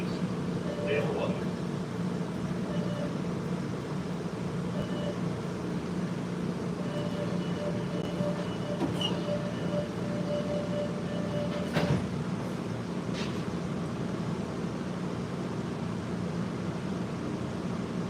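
An MBTA Red Line subway train rumbles steadily in a low, constant roar from inside the car, with occasional clanks and squeals, and a voice speaks over the noise.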